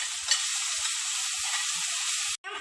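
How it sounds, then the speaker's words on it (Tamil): Chopped onions sizzle and fry steadily in hot oil with spices for an AVAL vegetable biryani, a loud, continuous crackle with soft stirring knocks, cutting off abruptly near the end. "கூட நம்ம பொடியாக நறுக்கி வச்சிருந்த அந்த வெங்காயத்தை சேர்த்துக்கலாம். சேர்த்துட்டு நல்லா வதக்கி விட்டுக்கோங்க"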